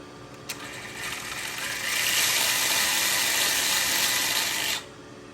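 An RC car in an RGT Challenger EX8 fitted with a Hobbywing Fusion Pro 2300kv brushless motor runs in second gear, a steady high mechanical whine and gear hum that swells louder mid-run then cuts off sharply.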